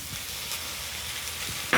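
Tomatoes frying in a pan with garlic and ginger give a steady, soft, close sizzle and hiss for the whole stretch, with a brief clatter right at the end.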